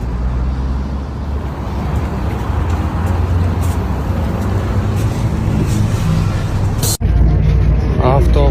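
Steady engine and road rumble inside a moving bus with no air conditioning, a continuous loud drone that lasts throughout, with voices talking over it.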